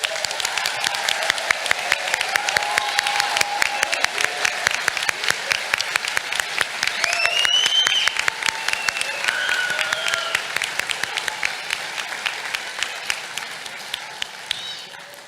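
An audience at a university White Coat ceremony gives sustained applause, dense close clapping with scattered whoops and cheers that gradually thin out toward the end.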